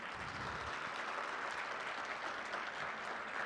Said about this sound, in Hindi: तो जब तक आप तालियां एकदम गर्मजोशी और जाट स्टाइल में नहीं करेंगे मज़ा नहीं आएगा।